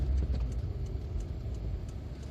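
A 1995 Hyundai Lantra 1.5 GLS engine runs at a steady low rumble, heard up close with no talk over it.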